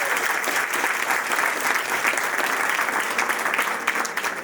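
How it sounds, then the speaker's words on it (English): An audience at an International Women's Day event applauds steadily, a dense, even wash of clapping that holds at full strength throughout without letting up. "please give them a round of applause for all the work they have done"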